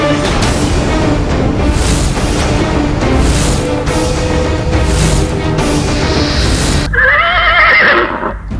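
Horse neighing: a loud, wavering whinny near the end that rises out of a dense, loud, rumbling backdrop.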